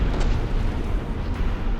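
Deep, rumbling booms and blasts from a warship in a naval battle game as it launches torpedoes during a fight with HMS Erin and HMS PiuPiu, a steady roar of low explosions with no talking.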